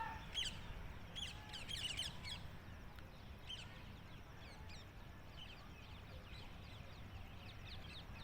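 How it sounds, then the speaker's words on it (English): Scattered bird calls and chirps in the distance over a steady outdoor background hiss, busier at first and then sparse. "birds are tweeting."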